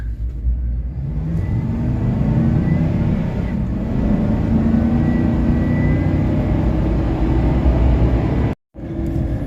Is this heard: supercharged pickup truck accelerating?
yes